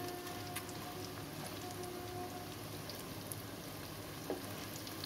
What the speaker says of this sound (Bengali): আর একটু জাস্ট ফ্রাই করবো, দিয়ে তুলে নেবো।